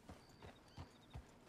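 Horse hooves in a video game clip-clopping at a slow, even walk, five distinct hoof beats about a third of a second apart, close by.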